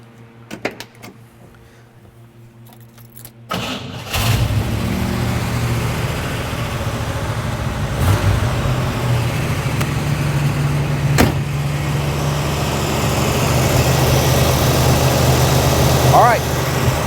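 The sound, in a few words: 1967 Chevelle SS 396 engine starting and idling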